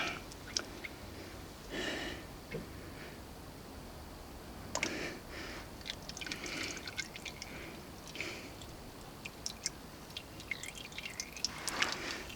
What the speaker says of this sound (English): let that drain. I'm going to undo the filler hole as well